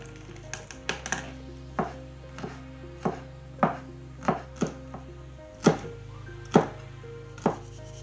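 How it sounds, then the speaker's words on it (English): A knife chops raw chicken into strips on a cutting board: about a dozen sharp, close thunks in an uneven rhythm over a steady low kitchen hum. "I'm going to cut the chicken into strips"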